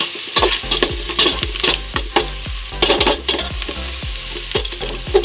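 Onions sautéing in a hot pan for beef offal goto, with a steady sizzle under repeated stirring and scraping strokes of a utensil against the pan, close and fairly loud, with no talking.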